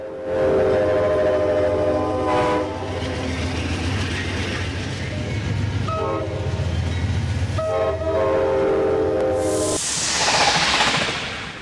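Long-distance trains at a modernised station in Brzeg, with loud rumbling rail noise, squealing metallic tones and sustained horn-like blasts, ending in a rising hiss, close and continuous.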